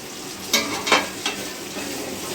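Ingredients for chicken pulao fry in a pan, a constant near sizzle broken by a few louder hissing bursts in quick succession, then settling back to an even crackle, with no one speaking.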